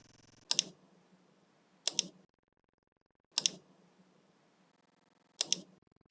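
Four crisp computer mouse clicks, made while inserting section-header lines in Microsoft Word, come in two spaced pairs, close and quiet against near silence.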